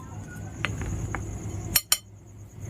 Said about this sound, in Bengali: এবার আমি এই চামচ দিয়ে শুকনো উপকরণগুলো খুব ভালো করে মিশিয়ে নিচ্ছি